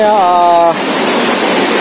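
The Cipinaha river in Karyawangi village flows loud and close as a steady broadband rush, with a voice speaking over the start before the water noise fills the rest.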